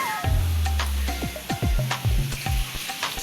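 Food sizzles and crackles as it fries in a pan, with scraping stirring strokes and clattering utensil knocks in repeated bursts, close and fairly loud.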